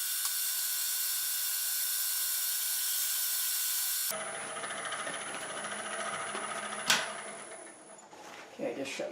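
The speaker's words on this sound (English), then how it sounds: "Okay, I just shut my vacuum off." Vacuum chuck running on a wood lathe, first a loud, steady hiss with a whine, then the vacuum cuts off and lower shop noises and clatter remain.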